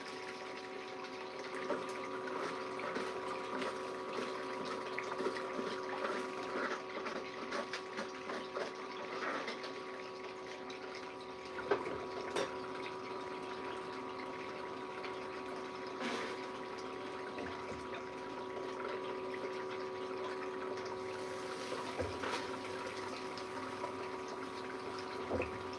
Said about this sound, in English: I am moving some water, creating some turbulence here, making this stuff move.